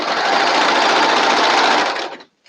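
Sewing machine running at a steady fast stitch for about two seconds, loud and close, then stopping abruptly.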